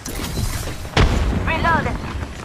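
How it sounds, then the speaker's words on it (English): A grenade explodes in a video game with one sudden heavy boom amid busy game noise, and a voice speaks briefly just after. "Look out, grenade!"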